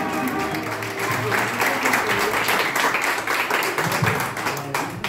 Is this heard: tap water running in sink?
no